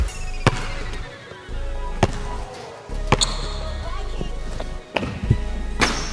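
Basketball shots on an outdoor court during a casual shooting game, with several sharp thumps and clangs of the ball off the rim and bounces spaced a second or two apart, while people talk nearby.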